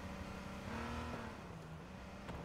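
A car engine in the battle royale game H1Z1 drones steadily at moderate distance, its pitch rising then dipping slightly as it revs, with a faint click near the end.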